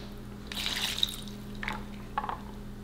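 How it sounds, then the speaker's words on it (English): Marinade poured into a Ziploc bag of chicken wings for orange pepper wings gives a soft liquid splash and trickle, followed by two brief drips or sloshes, fairly close over a steady low hum. "I'm gonna take this marinade and I'm gonna start putting it into our bag"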